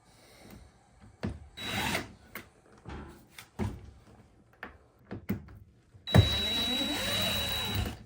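A dishwasher is worked out from under the counter: scattered close knocks, scrapes and rubbing thuds, ending in a sustained grinding slide as the unit moves out.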